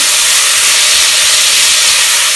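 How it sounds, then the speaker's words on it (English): Finely chopped onions hitting hot oil for a black-eyed bean masala curry, giving a loud, steady, continuous sizzle with a dense hiss that runs unbroken and close throughout. "Immediately we are going to add these finely chopped onions."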